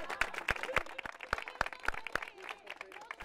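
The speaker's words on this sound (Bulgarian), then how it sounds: "Аплодисменти за нея." Audience applause for the coordinator at a Bulgarian community festival in Prague, sharp individual claps in an uneven rhythm over faint crowd murmur and a few voices.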